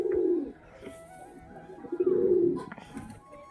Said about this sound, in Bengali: তার জন্যে চান করতে দিচ্ছি কবুতারগুলোকে